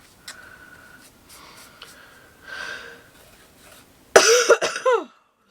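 One person gives a burst of harsh, close coughs after several quiet seconds filled with faint rustling of handmade watercolor journal work.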